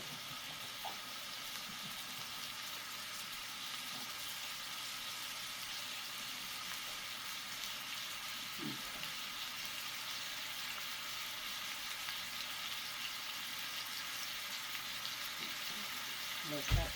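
Taco meat seasoned with salt and pepper frying in a pan, giving a steady, fairly quiet hiss and crackle throughout with a brief clatter near the end.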